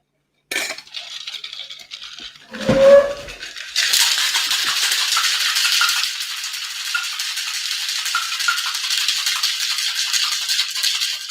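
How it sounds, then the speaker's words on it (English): A container is shaken hard: a short clattering rattle, then steady vigorous shaking that runs for several seconds, loud and close, with no talking. "Time to give this a big old shake."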